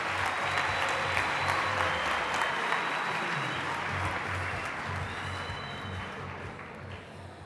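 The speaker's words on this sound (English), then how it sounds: "Let's give ourselves a very big round of applause." A large audience at a provincial tourism career expo claps in a dense, sustained round of applause, loud and steady throughout with a slight fade toward the end.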